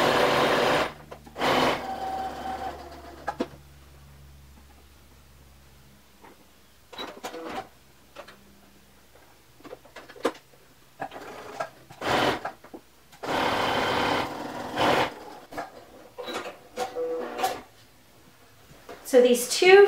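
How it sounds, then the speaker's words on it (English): A home sewing machine stitches two shirt seams with a half-inch allowance and 2.5 mm stitch length, running in several separate bursts of whirring with quiet pauses and brief handling noises between. "And I'm going to stitch these two seams."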